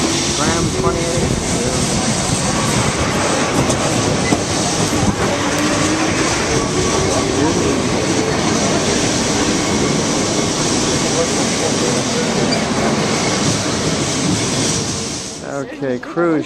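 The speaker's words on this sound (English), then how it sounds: "On the tram 28 up to the castle." Lisbon's tram 28 rattles and rumbles along its tracks in a continuous loud drone with grinding wheel noise, voices faintly audible beneath, before it slows near the end.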